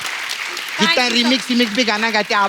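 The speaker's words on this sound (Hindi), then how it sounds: "जोरदार मस्त, जोरदार ताली हो जाए इनके लिए" A studio audience on a comedy talk show applauds. The steady wash of clapping is briefly heard alone, then carries on beneath a speaking voice.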